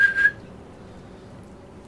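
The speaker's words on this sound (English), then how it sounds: "Oh yeah, there's the whistle." A short, high-pitched train whistle sounds once near the start in Train Sim World 2 on London Underground's Bakerloo Line, a clear steady tone lasting about a quarter second, then fading to a low cab rumble.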